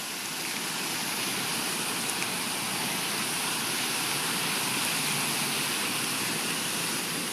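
Cloudy stream water near Waikiki flows with a constant broadband rushing hiss, loud and steady throughout with no voices.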